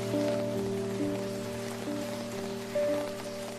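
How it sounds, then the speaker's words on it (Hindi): Heavy rain pours steadily on surfaces in India, a dense even hiss with no talk, while faint tonal hum lingers in the background. "बारिश हो रही है"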